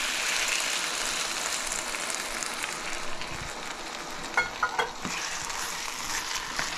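Steady loud sizzle in a hot pan as beef broth is added for shepherd's pie, a continuous bubbling hiss with a few small clinks near the end, close, no talking.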